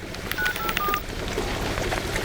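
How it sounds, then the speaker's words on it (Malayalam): Telephone number dialed on a phone keypad, a quick series of short DTMF tones in the first second, close and clear over a steady background hiss. "ഞാൻ വേണേ ഫോൺ വിളിച്ചു തരാം, ചേട്ടൻ ചോദിക്കേ."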